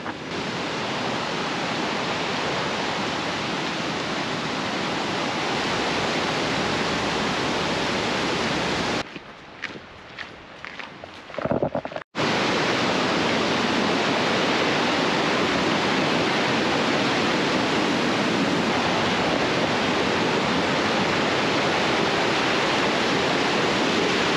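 Constant broadband rushing of flowing water, loud and steady, with a brief muffled break of rustling and handling noise midway.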